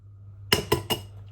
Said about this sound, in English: I'm just breaking an egg into a glass